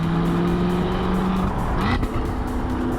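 A 2022 Cadillac CT5-V Blackwing's engine roars loud and close, holding a steady high drone, then dropping and climbing sharply again as it revs through a shift, with a brief tire-squeal edge and no talking.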